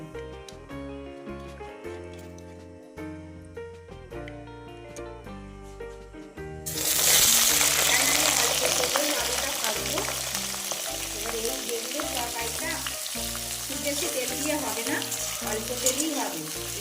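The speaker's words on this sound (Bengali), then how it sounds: "এই তেলেতে আমি আলু দিয়ে আলুগুলোকে ভেজে নেবো" Potatoes hit hot oil in a pan already seasoned with cumin and bay leaves, breaking into a loud, steady sizzle that carries on to the end after several seconds of quiet music.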